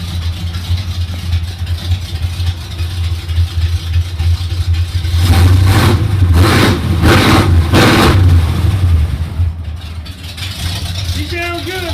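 Engine of a 1980 Jeep CJ5 with a Holley double-pumper carburetor running steadily, loud and close, with a throaty idle that swells into a series of rev pulses midway, then settles back; people talk over it.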